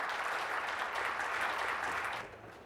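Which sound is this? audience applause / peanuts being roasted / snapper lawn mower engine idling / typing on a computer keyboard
audience applause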